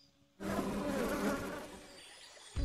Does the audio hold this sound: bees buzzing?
yes